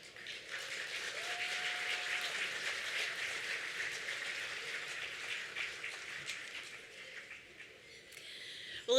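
Steady applause from a gala dinner audience welcoming an Episcopal bishop to the pulpit, a broad wash of clapping held at moderate level for several seconds with no talk over it.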